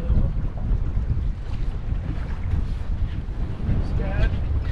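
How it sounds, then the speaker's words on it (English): Strong wind roaring over a small fishing boat out at sea, a continuous loud buffeting rush across the microphone with water noise beneath and occasional voices. "Yeah, the wind's absolutely flying through here."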